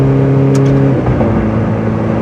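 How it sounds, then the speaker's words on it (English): A 2019 Ferrari 488 Pista drives and shifts gears, a loud close engine note holding steady and then dropping in pitch at the shift before pulling again. "Car shifts nice and smooth."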